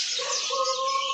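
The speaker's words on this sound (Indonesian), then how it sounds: "kita pantau untuk perkutut lokalnya bosku" A zebra dove's tonal coo repeats in short steady notes, close and clear over a constant bright hiss.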